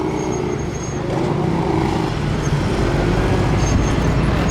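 Yamaha Drag Star motorcycle riding a gymkhana course, its engine droning steadily at moderate distance, rising and falling slightly as it moves from corner to corner, with faint traffic-like background noise.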